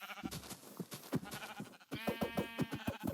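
Sheep in the video game Minecraft bleat repeatedly, a series of close, loud, wavering calls over about three seconds with no talking.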